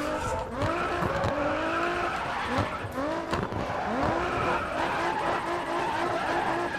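A car drifting in the Grid Autosport video game, with a continuous engine drone and repeated rising and falling tire squeals as it slides, loud and close throughout.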